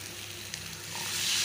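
Potatoes and eggs sizzling in hot oil in a pan for egg biryani, a close, steady frying hiss that builds louder toward the end, with no talk.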